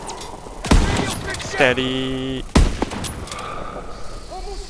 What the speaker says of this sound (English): I have to use the sniper rifle this time.